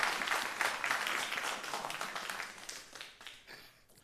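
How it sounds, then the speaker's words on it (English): Audience applause for students at a panel discussion held at Loyola University, starting strong and steadily thinning out over about four seconds. "round of applause for these students"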